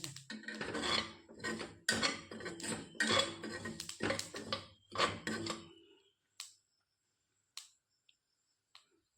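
Niger seeds scraped and stirred in a hot iron kadai, giving a dense run of gritty rasping and metallic scrapes for about six seconds, then a few faint isolated clinks in near silence.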